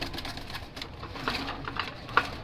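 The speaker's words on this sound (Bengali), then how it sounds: "এই হচ্ছে আমার কবুতর।" Pigeons in a home collection shuffle and flutter nearby, with faint cooing and scattered light taps and clicks over a low background hum.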